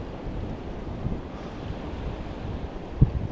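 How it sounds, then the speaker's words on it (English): Ocean waves rolling onto a beach under gusty wind, a steady low surf wash with soft swells and a brief bump near the end, heard alone without voices. "So here we have, other waves coming in now."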